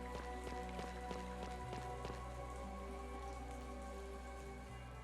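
Steady rain patters throughout a rainy scene in the Chained Echoes video game, sitting beneath layered game music with no talking.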